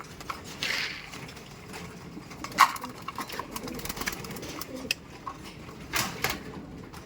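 Pigeons coo at close range in a coop during feeding, with low murmuring calls under a busy background of faint rustles, clicks and scattered sharp knocks.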